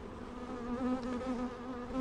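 Honeybees buzz steadily around a hive frame set on the ground during a hive inspection, a close, moderately loud drone with shifting pitch.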